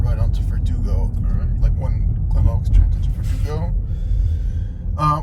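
A 2025 Mustang Mach-E GT electric car driving on a city street, a steady low road and tire rumble filling the cabin beneath people talking.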